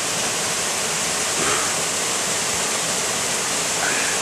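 Tajor Waterfall in Bako National Park roars as a steady, loud wash of falling water close by, with no break across the few seconds.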